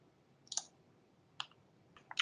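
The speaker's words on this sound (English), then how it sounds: "So let's go ahead and click this link." Quiet, crisp mouse clicks on a computer link, three or four short separate taps spread over a couple of seconds against near-silence.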